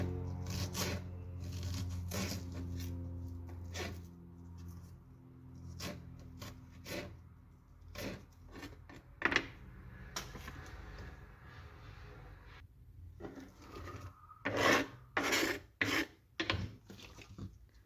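A red onion being finely diced with a knife on a board, heard as quiet, close scraping chops that come in irregular bursts and grow sharper toward the end, with no voices.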